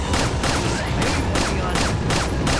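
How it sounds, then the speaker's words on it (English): Rapid gunfire in the survival horror game Resident Evil 4, a dense, loud run of shots that repeats steadily, about every third of a second, and lasts throughout, with no talking. "I didn't know I could shoot him"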